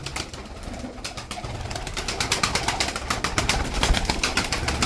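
Pigeons coo steadily in a loft or coop, several birds overlapping in a continuous, fairly close murmur of low throaty calls, with occasional wing flutters and rustling.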